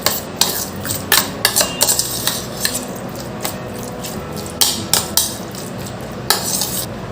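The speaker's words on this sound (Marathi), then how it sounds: "त्यात चवीनुसार थोडं तिखट टाकते, थोडी साखर टाकते, मीठ, सर्व छान आपण मिक्स करून घेऊ" Spoon clinking against a bowl while chili powder, sugar and salt are stirred into curd with onion for dahi kanda raita, a run of close, sharp metallic taps and scrapes at an uneven rhythm with no talk.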